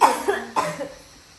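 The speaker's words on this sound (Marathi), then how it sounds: "खोकत आहे." A child coughs several times in short rough bursts at close range indoors, the last cough trailing off into quiet.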